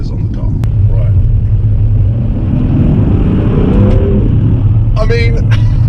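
A BMW M3 on winter tyres accelerates hard around a corner, its engine droning loud and steady with a rising pitch, then a brief tyre or mechanical chatter near the end.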